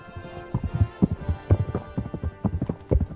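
Rapid hoof clip-clops from a trotting horse in the video game Kingdom Come: Deliverance, loud and close, with rhythmic uneven beats over a faint background hum.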